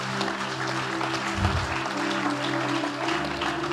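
A church congregation claps during a sermon, dense sustained applause filling the room, loud and steady throughout with some voices mixed in.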